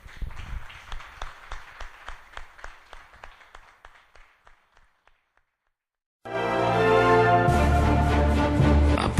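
A church congregation bursts into loud, dense applause after a sermon, sustained clapping filling the space; before it, a fading run of rhythmic beats trails off into near silence.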